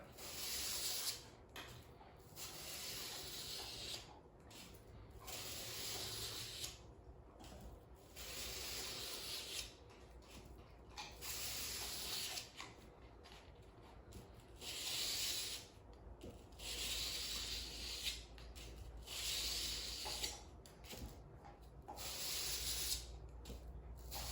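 A knife blade rubbed back and forth on fine-grit sandpaper, making soft rhythmic scraping strokes with brief pauses between passes, close and fairly quiet.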